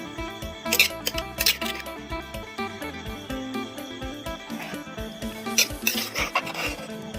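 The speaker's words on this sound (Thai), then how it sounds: "ทำการตักใส่จานได้เลยครับ" Spicy Thai som tam papaya salad with fermented fish sauce is scooped onto a plate, giving several clinks and scrapes of a utensil against dishware, close and fairly clear, over a steady background hum.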